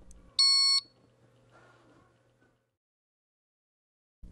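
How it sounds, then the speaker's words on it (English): A single short, shrill electronic beep from a UV fly trap signalling that its glue cartridge needs replacing, followed by quiet room tone. "a low-volume alarm alerts you that the cartridge needs to be replaced"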